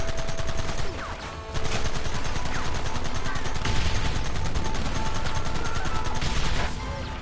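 Dense, loud gunfire from a shootout in the video game Red Dead Redemption, with continuous overlapping shots and rapid bursts that run without a break for several seconds.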